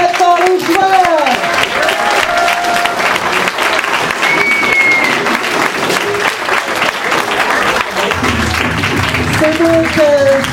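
Loud, sustained applause from a crowd cheering the players at the end of a match between Bonnelles and Mythos, steady clapping throughout, with a few voices and whistles rising above it.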